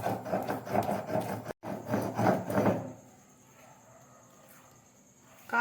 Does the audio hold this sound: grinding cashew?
yes